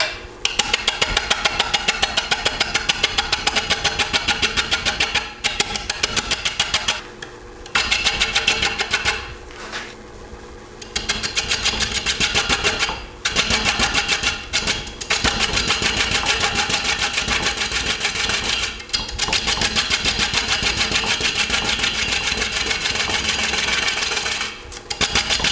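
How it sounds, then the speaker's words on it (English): A wood lathe spins a large container base while a small bowl gouge trues the surface, giving a steady loud whirring cutting noise with brief pauses where the cut stops, and no talk. "Now right here I'm truing up this surface with a smaller bowl gouge"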